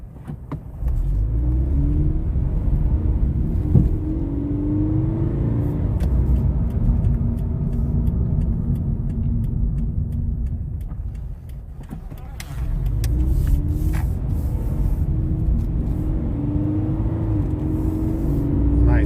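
The engine of a 2013 Scion FR-S 2.4L coupe rumbles and climbs as it accelerates, easing off midway before pulling hard again, heard from inside the car with faint talk underneath.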